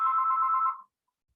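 A phone ringtone sounds as a single steady electronic tone, fairly clear and alone, lasting under a second before cutting off into silence.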